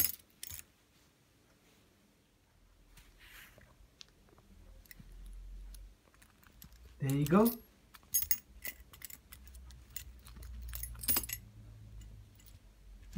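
A parrot chews on and jangles a set of metal keys, making scattered close clinks and rattles with a louder burst midway, while a person talks intermittently.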